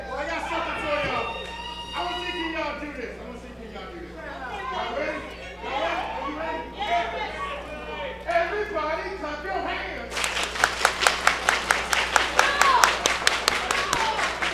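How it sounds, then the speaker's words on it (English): A wrestling crowd at a live show claps in rhythm, sharp regular hand claps building loud and fast near the end, after several seconds of dense crowd chatter and commentator talk. "Everybody's clapping their hands."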